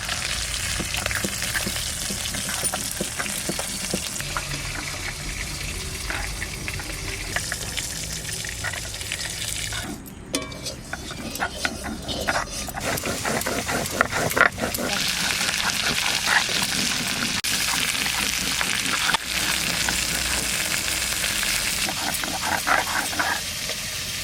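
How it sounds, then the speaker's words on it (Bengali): Koi fish fry in oil beside cauliflower pieces, a loud, dense and continuous crackling sizzle with spattering pops and occasional utensil sounds, with low voices beneath. "কি সুন্দর ভাজা হয়েছে মাছগুলো"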